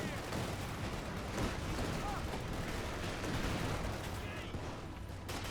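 Rapid gunfire and explosions rattle on without a break in Company of Heroes 2 during the Ardennes Assault, a dense battle din of shots and artillery with no clear gaps.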